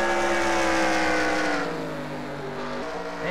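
A race car engine roars at full throttle during a heat race at Bristol, one loud sustained note sliding slightly lower as the car pulls away, then rising again near the end.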